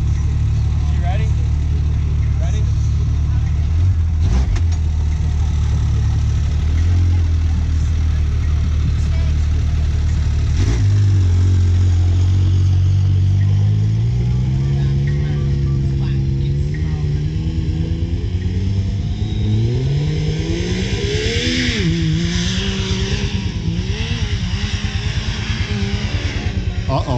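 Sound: Yamaha YXZ side-by-side engine climbing a hill

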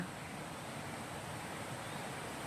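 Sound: Ton Nga Chang waterfall

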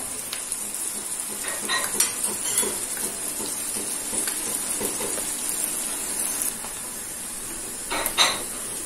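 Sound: stirring onion frying in ghee and oil in a pot

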